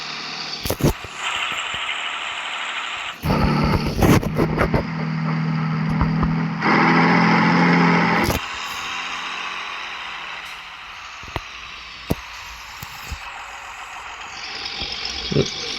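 A heavy John Deere tractor engine in Farming Simulator 23 rumbles and revs in shifting surges with a synthetic, looping quality, punctuated by sharp hissing bursts and clicks, loud and steady throughout.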